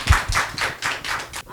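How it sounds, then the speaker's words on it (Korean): Short burst of audience applause after a talk event, a few rhythmic claps close by rising and falling in pulses, fairly loud with little talking. "박수 한번 부탁드리겠습니다."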